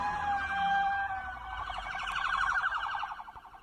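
Wailing emergency sirens from an ambulance and police car at a crash scene, a loud continuous rising-and-falling whoop with rapid warbling pulses, close by and with no talking.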